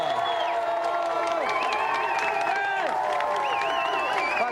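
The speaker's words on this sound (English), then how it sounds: "Round of applause for Edo and Paul." A television studio audience breaks into sustained applause and cheering after a gaming show's winner is named, with loud whoops and whistles over continuous clapping.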